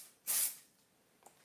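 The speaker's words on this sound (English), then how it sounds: "spray fix so that I don't destroy what I've done" Fixative spray hissing onto a pastel car sketch in one short, close burst, followed by a faint second puff and quiet room tone.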